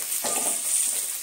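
Brinjal pieces fry in oil with a bright, continuous close-up hiss and sizzle, with a couple of brief surges at the start and end.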